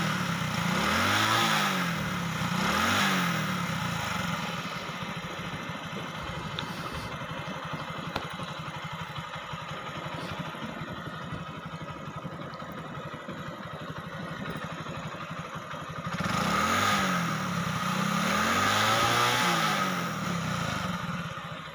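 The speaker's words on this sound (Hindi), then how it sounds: "अभी बाइक बिल्कुल स्टार्ट है साउंड आप चेक कर सकते हैं" A Honda CD-70 motorcycle with a suspected connecting rod noise idles steadily after a kick start, with two louder revving bursts near the start and again near the end, close by with no talk.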